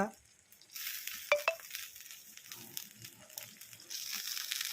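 Kan magur fish fry on a low gas flame, wrapped in spice-coated banana leaf. A soft, steady sizzle is broken by a few faint clicks and scrapes, and no one speaks.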